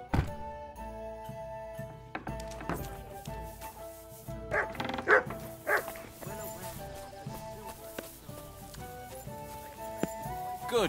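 A dog barks a few times inside the medieval video game Kingdom Come: Deliverance II, mixed with game music, hoof clip-clops and other ambient game sounds.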